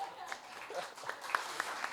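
An audience at a hurricane damage and insurance claims seminar gives a round of applause: a dense patter of claps lasting about two seconds, mixed with voices.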